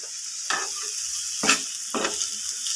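Onion fries in a pan for a Bengali dish of Malabar spinach, potato and dried fish, with a soft background sizzle broken by three distinct stirring scrapes, close and alone.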